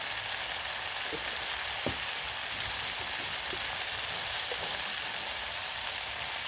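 Spices sizzle steadily in hot oil in a pan for a fish paste, a constant bright hiss with a few faint knocks scattered through it.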